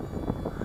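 A WLToys XK A150 Boeing 747 RC model plane with its motor at full throttle gives a steady, fairly faint airborne drone heard from a distance, holding even and unbroken throughout the short stretch.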